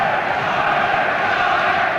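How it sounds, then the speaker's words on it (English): Crowd at a boxing match roaring as the fight heats up: a dense, loud, continuous wall of cheering and shouting from a large audience, no single voice standing out. "Oh, the crowd now really rising."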